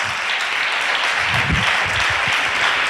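Applause from a church congregation, loud and sustained, many hands clapping in a dense uninterrupted wash with a few low murmurs underneath.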